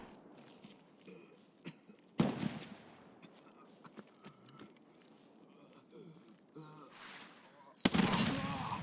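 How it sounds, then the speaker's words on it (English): Gunfire in Escape from Tarkov at a shoreline resort: two sharp, loud bursts of shots spaced several seconds apart, with faint scattered clicks and ambient noise between and a voice talking quietly underneath. "I think there was another person shooting at me"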